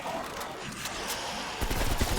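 AK rifle fire in Call of Duty Black Ops Cold War Zombies, rapid gunshots over dense game noise, the bursts growing louder and heavier toward the end.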